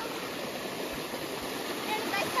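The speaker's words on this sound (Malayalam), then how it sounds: "ഇനി സൗണ്ട് കിട്ടുമെന്ന് അറിയത്തില്ല, വെള്ളത്തിന്റെ സൗണ്ടാ കേട്ടോ." Water rushes through a small rocky stream at Erappan waterfalls, a steady close broadband babble that runs on without a break.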